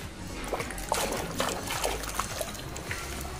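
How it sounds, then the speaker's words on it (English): Water trickles and splashes softly as toy animals are rinsed, a close, steady patter of small drips and sloshes with no one speaking. "Next, clean my animals in the water."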